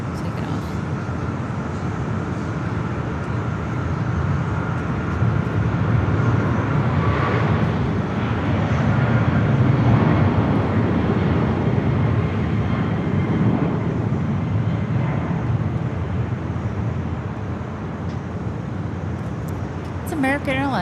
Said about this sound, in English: Airlines 2811 heading off to Dallas DFW. Boeing 777-200 ER.